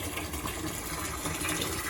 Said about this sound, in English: just topping up the water butts that I used for the chickens